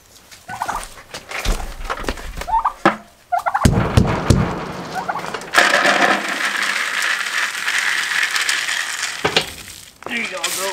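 Farm turkeys gobble in loud bursts at feeding time, mixed with clanking and rattling from feed handling, with a sustained noisy stretch in the middle and brief human sounds near the start.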